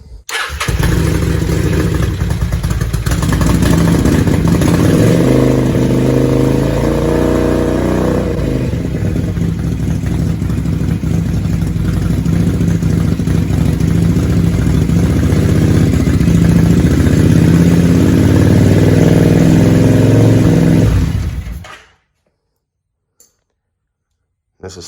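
Vulcan VN750 motorcycle engine held at raised RPM during a charging-system check after a stator replacement, a steady loud drone lasting about twenty seconds with slight rises and a voice heard faintly, then cutting off abruptly to silence.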